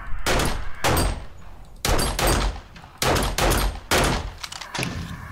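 Repeated loud gunfire in the zombie survival game 7 Days to Die during a horde night, roughly six sharp bursts spaced about a second apart, each with a short ringing tail, with no talk over them.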